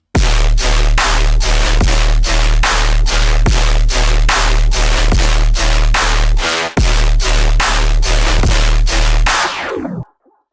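An electronic music drop pounds with a steady four-on-the-floor kick and sustained heavy bass, loud and continuous, with a brief break midway before it resumes and then cuts off.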